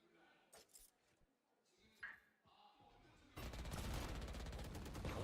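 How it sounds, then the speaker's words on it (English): Rapid gunfire in the Valorant video game bursts in loudly after a quieter stretch of faint game sounds and a few clinks, continuing as a dense sustained volley. "Shots going out."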